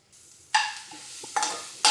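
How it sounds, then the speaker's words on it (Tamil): Spinach thokku being stirred in hot oil in a pan, with three sharp scraping stir strokes over a steady close sizzle and frying crackle. "இப்போ அதை நல்லா அப்படியே கிளறிக்கலாம்."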